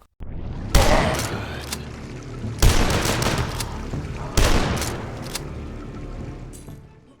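Shotgun blasts in the retro first-person shooter DUSK, three loud booming shots a couple of seconds apart, each with a long decaying tail and echo.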